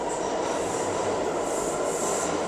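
A subway train runs through a Manhattan station, a loud, steady rumble and rush with a faint high metallic whine throughout and no voices.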